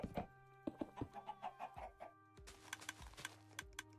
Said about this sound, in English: So theoretically what you have here is 10 chickens.